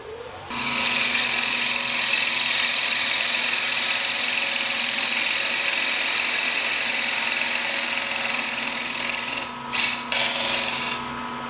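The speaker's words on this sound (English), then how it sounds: "what I'm going to do is just take this down and make a male tenon that'll fit into my opening" A wood lathe spins a rough-turned hollow form while a tool cuts a tapered tenon, giving a sustained close scraping, rasping whine over a steady motor hum, briefly interrupted twice near the end.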